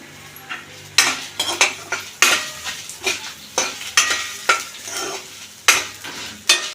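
Six dried red chillies stirred and frying in hot oil in a pan for an Andhra-style pappucharu, a crackling sizzle with repeated scraping strokes of a spatula against the metal, close and steady with no talk.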